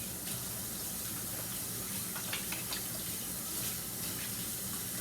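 A kitchen tap runs while hands are washed during meatloaf preparation. The water makes a soft, steady rushing hiss for the whole stretch with no talking.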